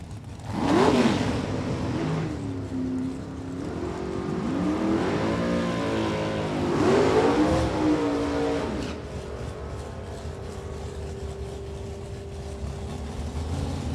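An 81 El Camino with a 600 cubic inch engine drag races a Camaro in Houston. Both engines roar hard and rise in pitch as they launch, then fade off as the cars pass.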